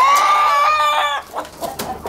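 A native country chicken gives a loud, close, drawn-out call lasting about a second, then breaks into a few short, rough clucks.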